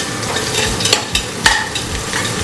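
Onions sautéing in a pan for Ambur biryani sizzle up close while a spoon scrapes through them in several uneven stirring strokes.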